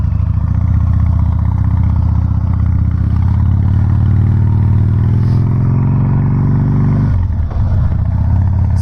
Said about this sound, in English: let's go ahead and give this bike a nice little run around the town